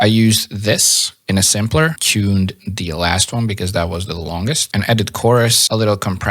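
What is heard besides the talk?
None of the usual background noises is heard.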